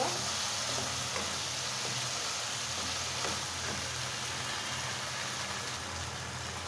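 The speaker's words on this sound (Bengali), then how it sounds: "এখন আলু আর টমেটোটা খুব সুন্দর করে কষিয়ে নেব।" Potatoes and tomatoes fry in a pan, a steady close sizzle with faint stirring scrapes running beneath it, and no voices.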